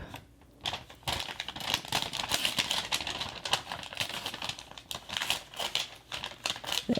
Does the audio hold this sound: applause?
no